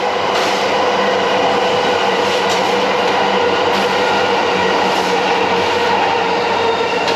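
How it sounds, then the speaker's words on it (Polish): A train rumbles steadily past nearby in Ebisu, Japan, a continuous loud rolling roar with faint rhythmic clatter and no voices. "Znowu pociąg przejeżdża."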